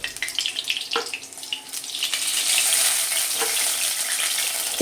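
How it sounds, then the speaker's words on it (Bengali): Potatoes frying in oil for a Bengali mixed-vegetable curry, a steady close crackling sizzle with a few stirring clinks, growing denser and louder after the first couple of seconds, with no talking. "এবার আমি আলুগুলো ভেজে নিচ্ছি"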